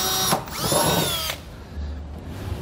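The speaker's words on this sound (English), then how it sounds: "we're going to be drilling through the bed" Power drill boring pilot holes through the steel bed of a 2017 Ram 2500 pickup, close and loud: a whining drill burst about a second long, then a quieter low hum.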